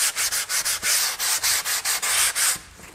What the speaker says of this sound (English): With an 80 grit sandpaper, you still can form your shape your form.